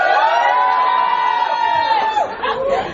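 Stand-up comedy audience cheering and shouting, a loud sustained crowd roar with a held high yell and scattered voices that thin out near the end.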